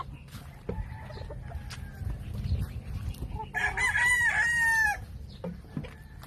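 Chickens and a rooster in a small backyard chicken coop: a rooster lets out one loud, drawn-out crow over steady background clucking and low farmyard noise.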